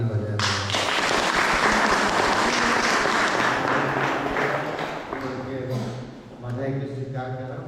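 Church congregation at a wedding in Kantapali Parish Church applauds the newlyweds in a burst of clapping that fades as someone speaks over it and music plays.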